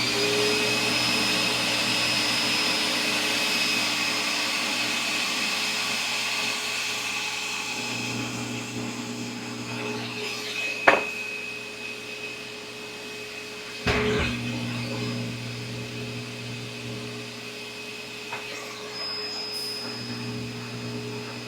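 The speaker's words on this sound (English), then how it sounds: "so now I'm going to put it on the buffer." Buffing wheel motor hums steadily while polishing a Kaywoodie pipe stem, a droning whir with tonal mains-like hum, two sharp bumps and a brief scuff as the stem meets the wheel, no talking.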